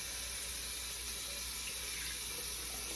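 Steady running water from a tap while makeup brushes are washed with soap, a constant hiss close by, no voices.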